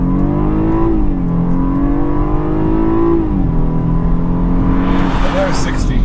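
A 2015 BMW 428i Gran Coupe with a turbocharged engine launches hard from 0 to 60 mph, its engine note climbing steadily, dropping at a gear change and climbing again, loud and close, with a hissing rush near the end.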